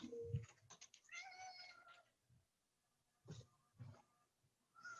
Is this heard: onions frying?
no